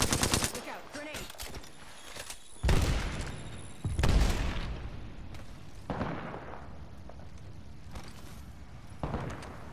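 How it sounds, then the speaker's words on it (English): Gunfire crackles through the Apex Legends match with two heavy grenade blasts, close and loud, bursting out of steady shooting and other game noise. "Look out! Grenade!"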